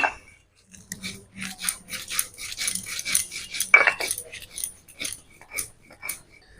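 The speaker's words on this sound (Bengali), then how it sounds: "এবার আমি মশলাটা বেটে নিই" Chillies and spices are ground into a paste for a taro-leaf dish with hilsa fish head, giving quiet, rhythmic scraping strokes in repeated bursts with brief pauses, close and fairly soft.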